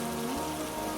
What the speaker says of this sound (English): Evenings end, more often than not, with rain.